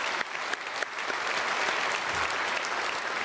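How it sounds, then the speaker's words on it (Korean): A church congregation at a Sunday worship service applauds to welcome a visiting pastor. The clapping is dense, loud and sustained, with a couple of sharper claps early on and faint crowd murmur beneath. "우리 크게 박수로 환영하겠습니다"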